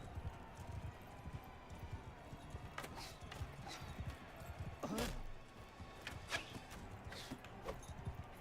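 A horse trotting in a video game, faint clip-clop hoofbeats with scattered sharper knocks over a low, busy background, a voice briefly heard.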